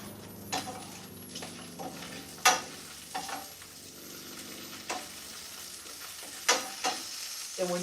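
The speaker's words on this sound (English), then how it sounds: "when you're cooking, like I'm doing this bacon, do not have the fire up too high because you will burn it up" Bacon frying in a pan with a steady close sizzle, broken by occasional sharp pops and spatters and a few light utensil clinks.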